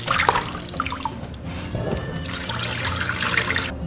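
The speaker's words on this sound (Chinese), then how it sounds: "加入清水浸泡10分钟" Clean water poured into a bowl of pork ribs to soak them, a close, continuous splashing trickle that swells and eases over several seconds.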